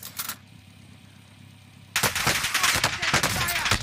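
Gunfire from the Warzone video game: a quiet stretch with a brief early burst, then loud, rapid automatic fire erupts and continues in dense volleys.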